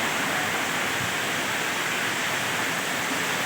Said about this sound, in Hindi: हमार गांव में हरेली तिहार के सती एकदम पानी गिरत है